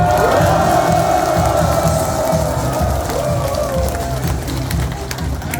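A large audience of seniors at a filial-piety celebration in a fourth-floor community hall auditorium in Gwangmyeong cheers and claps loudly, whoops rising early, then the dense applause slowly tapers.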